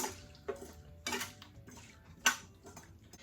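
Carrots being stirred in a skillet with salted water, a utensil clinking and scraping against the pan in a few sharp taps among softer sloshing and scraping, close and fairly quiet with no talking.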